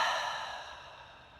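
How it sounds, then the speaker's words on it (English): A slow, steady exhale during a yoga flow, breath pushed out through the mouth to empty the lungs, close and soft, fading gradually over its length with no talk. "Let all the breath out of your lungs."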